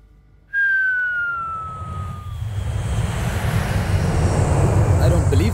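An airplane engine runs up as the plane gets ready to fly, a sharp whine rising over a steady, growing roar that builds from near silence and stays loud with no talking.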